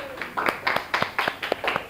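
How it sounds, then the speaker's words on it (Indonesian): A small group in a classroom gives a few faint, evenly spaced rounds of hand clapping, soft and brief, with a bit of talk mixed in. "tepuk tangan"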